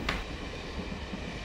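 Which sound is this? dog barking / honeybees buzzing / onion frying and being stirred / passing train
passing train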